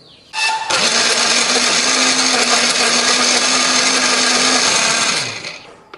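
A kitchen blender grinds bird's eye chilies and coriander with a little water into a paste. It starts abruptly and runs as one loud, steady whirring burst for about five seconds, then winds down to a stop, with no talk.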